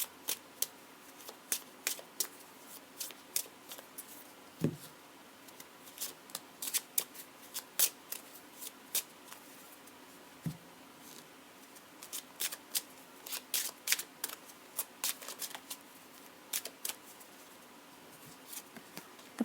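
Tarot cards are shuffled for a monthly reading in a quiet room, giving soft, scattered riffles and flicks in uneven bursts, faint and close, with no talking.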